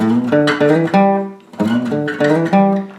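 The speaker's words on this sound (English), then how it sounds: "One of the themes the bass plays throughout the verses is this little riff." A bass guitar plays a short, punchy riff of plucked notes from the verses of a song, loud and close, with a brief pause before the phrase repeats.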